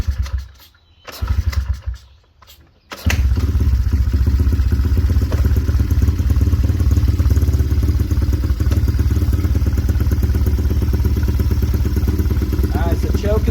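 A small engine with the choke on sputters and catches after a few quiet seconds, then settles into a loud, steady, rough clattering run close by.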